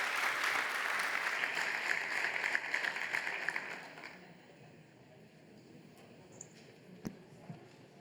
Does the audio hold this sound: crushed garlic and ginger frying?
no